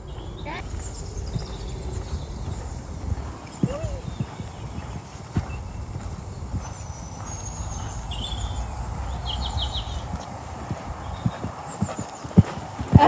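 Horse hooves clip-clop steadily under a rider in a Western riding session, with occasional snorts and birds in the background and a person speaking now and then.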